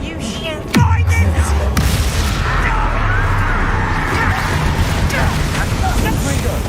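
Confringo and Flipendo spell blasts crash and rumble without pause in a Hogwarts Legacy battle, loud and near under shouted talk.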